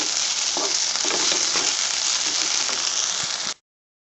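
A ground paste of coriander leaves, onion and green chili frying in a pan for soya chunk pulao, a dense steady sizzle with stirring scrapes, close up, cutting off abruptly at the end.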